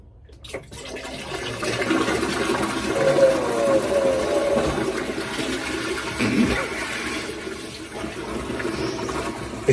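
Liquid waste gushes steadily from a camper van's cassette toilet as it is emptied, a continuous sloshing pour lasting several seconds, close and fairly loud with faint background noise.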